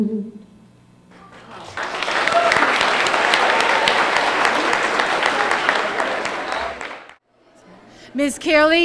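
An audience at a school Arbor Day event applauds a chorus performance, a dense sustained round of clapping that swells and holds for several seconds before fading, with a voice speaking briefly before and after.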